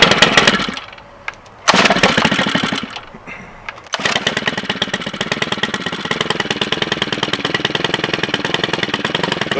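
A STIHL FS 111R string trimmer is pull-started cold on choke with no throttle: a couple of sharp recoil pulls, then the small two-stroke engine catches and runs steadily, loud and close, with a buzzing, rattling idle.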